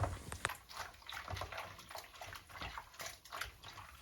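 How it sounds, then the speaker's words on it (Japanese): Running water while hand-knitted socks are wet-blocked, a continuous splashing tap stream with intermittent drips and sloshes close by, no speech. "この水の音が心地いいなと思います"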